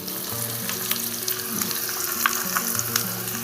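Onion fries in a pan over a wood-fire stove, giving a continuous close sizzle and crackle with faint scattered pops and light ticks, steady and unbroken, with no speech.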